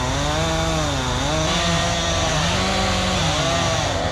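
Gas chainsaws cut firewood with a loud, continuous two-stroke whine close by, pitch dipping and rising as the chain bites into logs.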